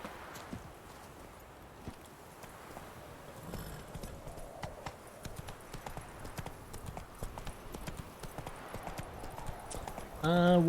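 Horse hooves clip-clopping steadily in The Witcher 3, rhythmic and fairly close, with ambient game sound and a louder burst near the end.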